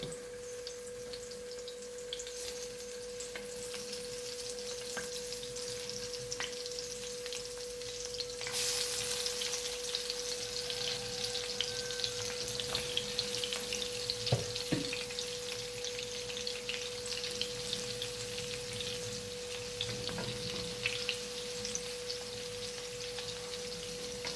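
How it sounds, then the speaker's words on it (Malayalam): Sliced brinjal (eggplant) sizzles and crackles in hot oil, a steady close frying hiss that swells louder partway through as more slices are added, with a faint steady hum underneath. "ഓരോന്നോരോന്നായിട്ട് ഈ ചൂടായി കിടക്കുന്ന എണ്ണയിലേക്ക് നമ്മളിടുന്നു"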